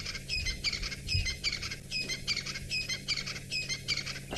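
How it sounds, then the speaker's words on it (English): Crested francolins call in the bush at dawn, a rhythmic series of harsh, repeated squawking phrases that come in regular bursts, moderately distant and fairly faint, with no talking. "I can hear the Franklins making a noise, crested Franklins."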